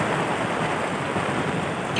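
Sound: rain and wind

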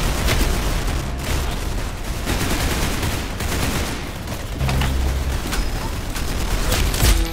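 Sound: gunshots in video game Roblox Arsenal

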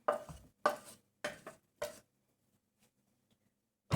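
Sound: chopping onion finely with a knife

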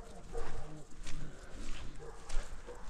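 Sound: dog whimpering and barking

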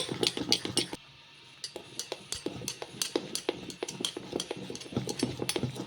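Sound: stirring semiya tomato dosa batter with baking soda

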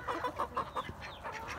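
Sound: chicken clucking

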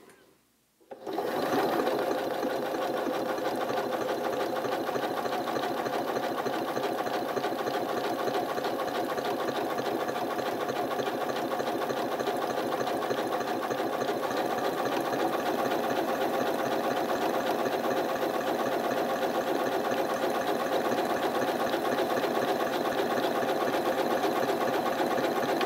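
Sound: Janome MC9450 sewing machine stitching

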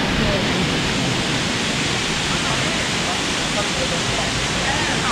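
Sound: waterfall in Sapa, northern Vietnam

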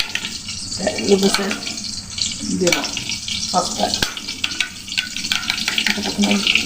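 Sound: frying food in a pan for pasta

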